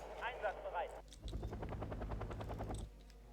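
Mortar and gunfire in the video game Wargame European Escalation: a rapid burst of rattling, repeated shots for about two seconds after a brief moment of speech, all fairly faint.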